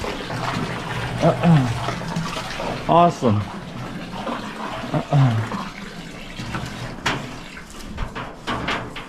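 Water from a hose gushes steadily into a tank at a snowy cattle farm, a continuous splashing wash with someone talking briefly over it.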